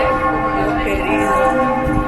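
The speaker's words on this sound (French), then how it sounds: "Et les cloches qui sonnent." Church bells ring out in Florence, their sustained tones layered and echoing, loud and continuous for the short stretch.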